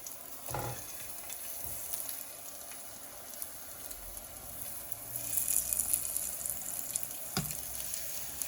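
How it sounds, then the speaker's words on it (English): Spices mixed into olive oil fry in a pan with a soft, steady hiss, faint and close. A few brief clatters cut through, and the sizzle swells slightly toward the end. "I will pass it here on some olive oil in the pan before I add it to the soup"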